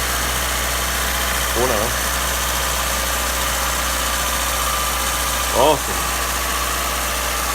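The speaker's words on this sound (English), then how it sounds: "The motor still runs, which means I've done a good job" The turbocharged D16 engine of an Acura Integra project car idles steadily with a loud, constant drone, while a voice speaks briefly over it.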